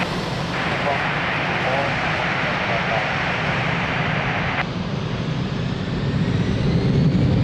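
An Airbus A320 jet rolls down runway 02 at Lisbon Airport for takeoff, giving a steady, loud engine roar and rush that holds and builds slightly toward the end. A continuous radio-style voice runs over it throughout.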